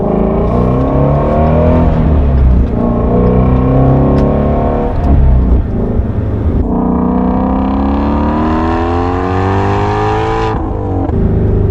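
Shelby GT350 engine and exhaust revving loudly up close, with a rough burbling rise, a brief dip near the middle, then a long climbing rev that cuts off near the end; no talking.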